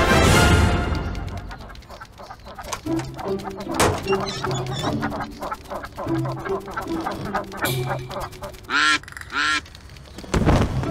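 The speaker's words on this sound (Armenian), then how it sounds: "Բադերը, ճանապարհին բադեր են։" Cartoon ducks quack on a road in a series of honking calls, with thumps and other animated sound effects around them and no clear talk.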